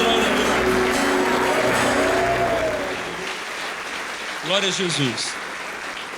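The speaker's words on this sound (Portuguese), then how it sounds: "Bem forte as palmas para Jesus." A church congregation applauds during a worship service, with strong, sustained clapping that fades toward the end while a voice calls out praise over it.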